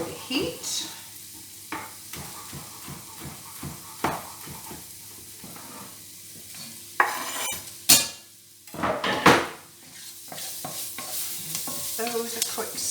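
Fenugreek seeds, chilies and spices are stirred in a pot for dhal, a string of scraping, clinking spoon strokes against metal with light sizzling beneath, close and fairly quiet, no talking.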